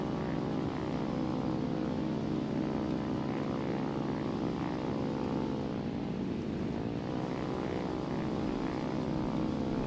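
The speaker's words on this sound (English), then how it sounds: "Looks like a Corsair," Steady droning propeller engine of a Corsair fighter plane in a War Thunder simulator battle, a continuous loud hum with harmonic whine that holds throughout and shifts pitch briefly midway as it passes.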